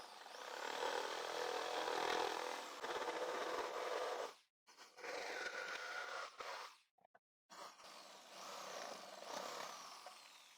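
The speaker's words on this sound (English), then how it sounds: "I'll use the jigsaw again to remove this part," A jigsaw cuts along lines in a piece of scrap wood, buzzing steadily with brief pauses and restarts, fairly close and alone.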